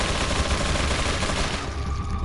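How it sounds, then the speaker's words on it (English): Gatling gun fire in Resident Evil 4, a dense, unbroken rattle of rapid shots that is loud and continuous, easing slightly near the end. "That Gatling gun has got insane range."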